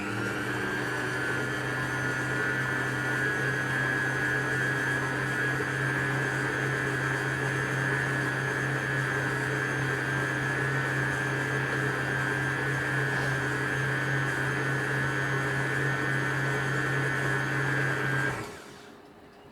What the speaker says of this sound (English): Let's give it a last mix once for a minute.